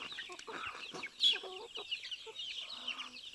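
Several native Basilan chickens cluck nearby in soft, overlapping bursts, with one sharper squawk standing out among them.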